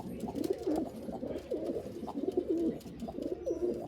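Punjabi Malwai pigeons coo in a repeated, rhythmic throaty pattern at close range, with soft background noise and no talking.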